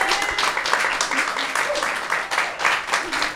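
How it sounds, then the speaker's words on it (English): Applause from an audience at an artist panel for the exhibition Transcend, steady and fairly close for a few seconds, with voices mixed into the clapping. "Give us a round of applause for Rhi and Yen"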